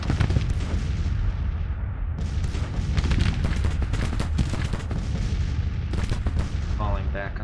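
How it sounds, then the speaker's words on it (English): Artillery and musket fire in a Civil War battle in the strategy game Grand Tactician, dense overlapping booms and crackling volleys rolling continuously and loudly, with brief talking mixed in. "Let's see if the artillery can spice things up a bit."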